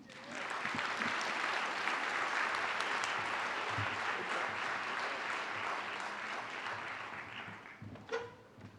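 Audience applause at a sports Hall of Fame induction ceremony: a dense, sustained round of clapping from a crowd that holds steady for several seconds, then thins out near the end.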